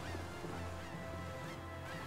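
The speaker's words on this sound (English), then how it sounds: "Those birds are chirping, or seagulls," Birds or seagulls in the Tales of Vesperia video game give faint, repeated honking calls over a steady ambient wash like distant surf.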